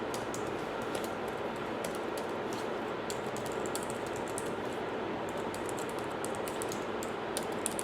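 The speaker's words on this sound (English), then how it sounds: "And now you're going to type in your personal information." Keys on a computer keyboard clatter in quick, irregular bursts as personal details are entered, with steady background hiss underneath.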